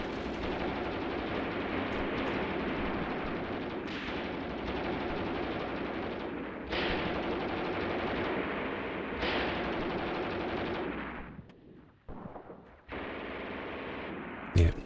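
Sustained machine gun fire in the Graviteam Tactics war game, a dense unbroken rattle of rapid bursts with brief pauses and a drop near the end before firing resumes, no voices.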